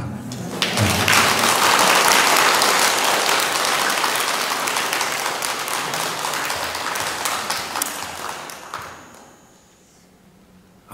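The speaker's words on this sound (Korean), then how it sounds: "억지로 박수 받은 겁니다." An audience at a Buddhist dharma talk during a Saturday service at a Seoul temple claps in a loud, sustained round of applause that slowly thins and fades out near the end.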